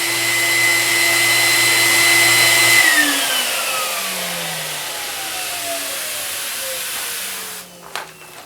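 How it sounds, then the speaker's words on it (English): A Pursell SnowForce flock machine runs with a loud, steady blowing hiss and motor hum whose tones slide downward as it winds down, ending in a few faint clicks. "So that's the versatility and precision of the SnowForce flock machine by Pursell."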